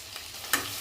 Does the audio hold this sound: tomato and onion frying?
yes